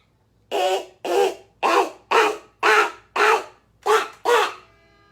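Voice imitating a duck call, eight loud, close, nasal quacking honks in a fairly even rhythm, each about a third of a second long.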